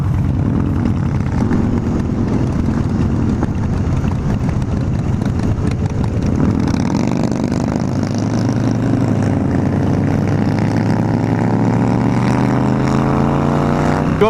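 An Indian motorcycle's engine drones steadily while riding, with wind rush and a rising, shifting engine tone in the second half, loud and continuous with no talking.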